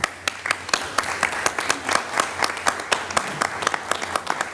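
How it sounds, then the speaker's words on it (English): An audience at an academic excellence awards ceremony applauds two award recipients, a steady run of close, crisp hand claps lasting several seconds. "Let that be the first of a couple rounds of applause"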